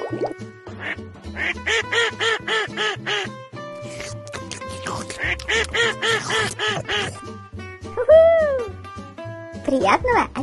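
Ducks quack in rhythmic bursts, repeated honking calls in quick series, with a higher squeaky call near the end over a low background hum.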